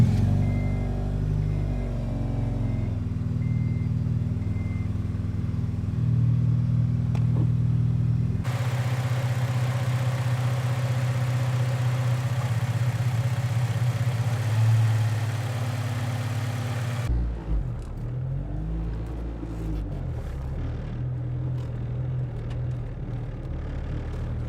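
A Honda Integra DC5 Type R engine starts and settles into a steady idle, a continuous low engine hum that shifts in tone partway through, with no talking.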